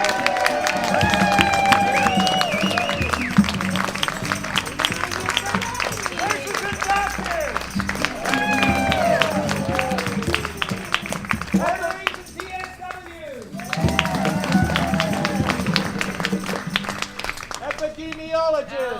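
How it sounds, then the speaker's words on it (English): A crowd cheers and claps for musicians, with lively shouts and many overlapping voices riding over scattered clapping. The sound dips briefly midway, then swells back up. "Make rounds of applause for all these amazing"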